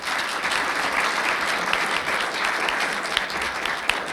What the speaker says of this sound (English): let's have a round of applause for Mary Jo.